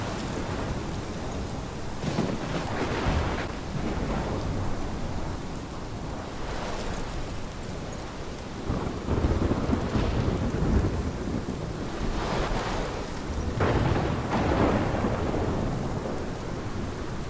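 A thunderstorm in the video game Life is Strange: steady heavy rain with repeated rolling thunder rumbles that swell and fade, loud and unbroken, with no voices.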